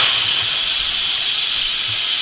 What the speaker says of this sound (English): The steam just got done getting out of it.